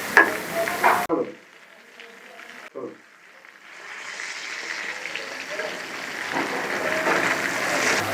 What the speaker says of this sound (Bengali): তেল গরম হয়ে গেলে একটা করে রোলটাকে আমি ছেড়ে দেবো তেলের মধ্যে।